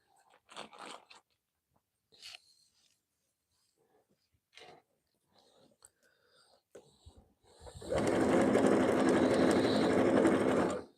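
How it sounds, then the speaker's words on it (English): A sewing machine stitching cotton lace down onto a tea towel runs in one steady, loud whirring burst near the end, after scattered quiet clicks and handling noises. "We're sewing it down to the tea towel. Then we'll do a second row of stitching so the lace stays in place."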